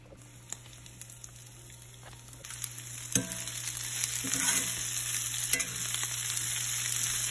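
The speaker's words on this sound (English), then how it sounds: "And now I'm going to cook in the same skillet." Food cooks in olive oil in a skillet, a low sizzle that builds steadily louder, punctuated by a few sharp utensil taps and stirring scrapes over a constant electrical hum, no talking.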